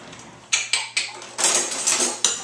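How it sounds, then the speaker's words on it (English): A metal spoon clinks repeatedly against a pan while scooping braising liquid over pulled pork, giving about half a dozen close, sharp scrapes and taps in an uneven rhythm with no talk. "Just take a spoon and spoon some of that awesomeness in there."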